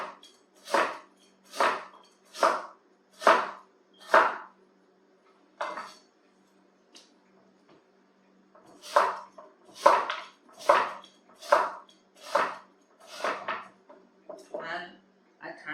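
Knife chopping through sweet potato on a cutting board, with crisp, evenly spaced thuds in two bursts separated by a short pause, close and clear.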